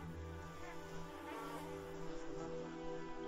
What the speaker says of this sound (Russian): Миллионы злющих комаров